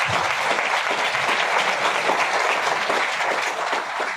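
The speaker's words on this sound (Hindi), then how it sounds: "एक बार मेरे बच्चों के लिए जो दिल खोल के ताली हो जाए" Seminar audience applauding warmly for the speaker's children at a business gathering, a dense, steady clatter of many hands held near and loud throughout with no talk over it.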